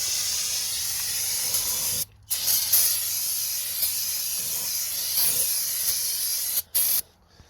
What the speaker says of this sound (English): Hit that with a little brake clean I picked up.